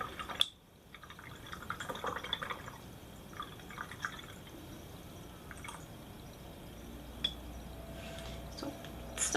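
A well-used paintbrush is rinsed in water with brush cleaner, giving faint, close drips, trickles and light splashes with occasional small clinks, all quiet and irregular.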